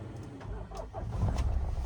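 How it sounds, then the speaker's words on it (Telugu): A manual diesel Mahindra Thar engine idles with a low, rough rumble that swells slightly toward the end, heard from inside the vehicle with no voices. "దీని ఇంజన్ సౌండ్ ఏనండి"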